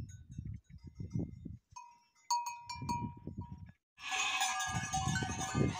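Goats and sheep on a farm in the Brazilian caatinga bleat in short calls at close to middle distance, followed by a stretch of rough, wind-like noise.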